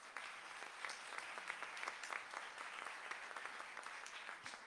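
Warm applause from an audience at a university faculty book presentation, steady dense clapping throughout with a few sharper individual claps standing out, moderately distant and sustained without talk.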